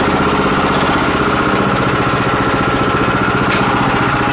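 A Sears Suburban garden tractor engine, its carburetor O-rings just replaced, runs loud and steady right after starting, a close rapid even putter with no pause.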